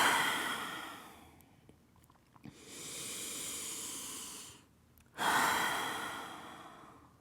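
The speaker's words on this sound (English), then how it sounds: "take a deep inhale and let it all go with your exhale." Two long, breathy inhale-and-exhale cycles during a power yoga flow, close and soft, each swelling and fading with quiet pauses between them and no talking.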